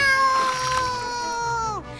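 A cat yowls after being pushed into water, one loud, close, drawn-out wailing meow that sags in pitch at the end, heard alone.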